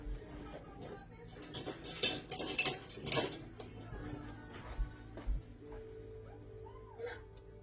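A spatula scrapes and knocks against a mixing bowl while cheesecake batter is worked off the bottom, a cluster of close clattering scrapes early on that thins to a few scattered taps, with quiet voice sounds near the end.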